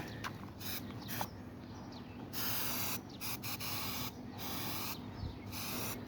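A spray can applies sealant onto a roof during a repair, giving long bursts of steady hissing spray separated by short pauses, close and fairly quiet with no talk.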